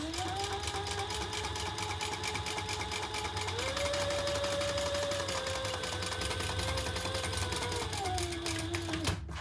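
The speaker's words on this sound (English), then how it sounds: "So we're gonna top stitch with that seam that we just created on the base." A sewing machine runs steadily for the full stretch, top stitching a bag seam about an eighth of an inch from the base seam. The motor hum holds constant with one upward shift in pitch partway through and no talking.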